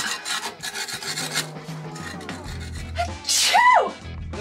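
Rasping scrapes as rust is worked off the steel hull of a narrowboat, steady close strokes that trail off before a brief louder burst near the end.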